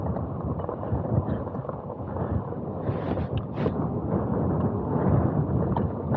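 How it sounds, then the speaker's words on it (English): Gusty wind on a rocky hillside buffets the microphone with a constant low rumble that swells and eases, loud and close, with no voices. "Windy on this side."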